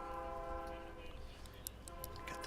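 A distant train horn sounds faintly and steadily in the background near a high school baseball game, with its sustained tones running under ambient field noise throughout.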